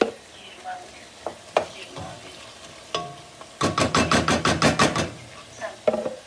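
Meat for Kyrgyz plov sizzles and is stirred in a pot, with scattered scrapes and knocks and a burst of rapid rhythmic clatter near the middle, all at moderate volume without speech.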